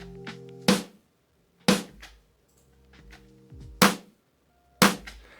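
Ableton drum beat with the clap muted, leaving snare hits: four sharp, loud transient strikes spaced about a second apart over a faint low background pattern, with no voices.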